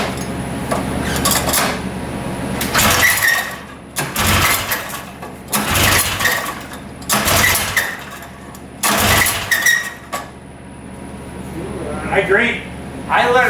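A vintage Raider 34TT twin-track snowmobile engine cranks and tries to start in repeated loud bursts, sputtering and catching between pauses, with a low steady idle underneath and short mechanical clatter.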